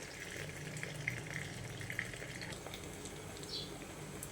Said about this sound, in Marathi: आता हे दुसऱ्या साईडने पण छान परतून घेऊया मी आता झाकण ठेवते